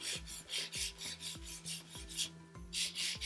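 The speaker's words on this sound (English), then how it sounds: "I'm going to do most of my filing by hand." An acrylic nail is filed by hand, a steady run of about a dozen quick, close rasping strokes with brief gaps, heard alone.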